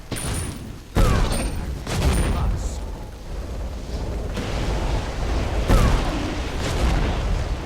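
Agni's fire attack in the video game Smite: loud booming fiery blasts and bursts recur through the clip, with sharp explosive onsets at intervals over continuous crackling game noise.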